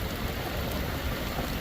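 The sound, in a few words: heavy rain falling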